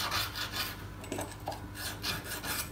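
A file lightly rasping a burr off the edge of a morticer chisel, a soft repeated scraping stroke heard close up, steady and fairly quiet, with no talk.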